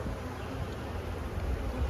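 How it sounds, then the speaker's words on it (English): A soft, continuous hum of many honey bees buzzing close by on a hive frame, a low droning swarm with no talking. "Fair amount of bees in this frame."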